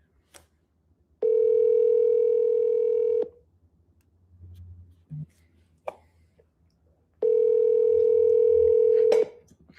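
An unanswered outgoing phone call produces two long, steady ringback tones separated by a quiet gap of a few seconds, with faint clicks and low room noise in between.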